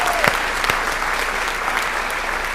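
Steady applause from a school awards audience honoring senior class advisors, dense and continuous with a few sharper claps near the start, filling the hall at even loudness.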